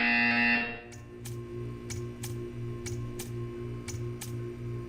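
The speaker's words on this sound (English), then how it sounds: "You will hear a buzzer." A short, loud electronic buzzer sounds in the video game Portal 2, followed by a quieter run of evenly spaced ticks in a steady rhythm.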